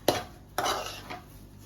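Upma mixed in a pot at home: three distinct scraping strokes of a spoon against the pot, each a short gritty swish with a bright onset, spaced about half a second apart with quiet between.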